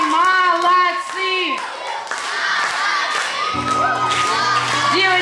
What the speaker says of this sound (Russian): Аплодисменты Виталию Лушникову.